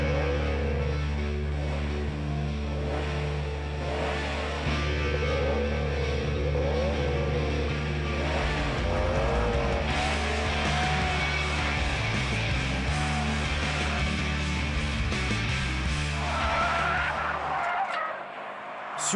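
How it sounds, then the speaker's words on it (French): A 2010 Subaru Impreza WRX STI is driven hard on a race circuit, its engine droning loud and continuous with tyres squealing and skidding through corners for most of the run, cutting off abruptly at the end. "Sur le circuit de l'Ouest parisien, nous avons poussé la WRX STI dans ses retranchements."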